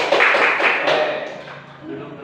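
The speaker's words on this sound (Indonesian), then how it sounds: "Tepuk tangan dulu teman-teman." Schoolchildren applauding in a classroom, a short burst of clapping mixed with excited young voices that fades out after a couple of seconds.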